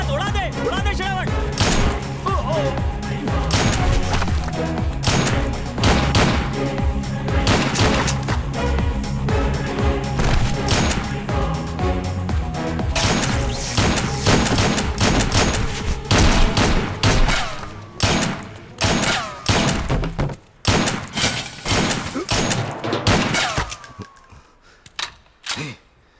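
Gunfire in a movie shootout, dense rapid volleys of shots layered over dramatic music, loud and continuous, breaking into separate sharp bangs near the end, with voices shouting in between.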